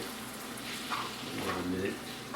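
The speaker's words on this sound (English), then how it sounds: "We have browned the meat." Browned meat sizzling in a pan for chili, a steady close frying hiss with stirring scrapes, and a voice murmuring faintly underneath.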